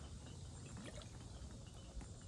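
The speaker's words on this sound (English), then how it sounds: "I'm submerging them in this water." Glass bud vases pushed under water in a container, giving a steady wash of sloshing, gurgling water with faint trickles throughout, close by and with no talking.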